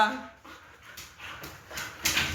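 Playful husky dogs whimper, pant and let out small yips close by in a short, busy burst, with a person's voice talking over them.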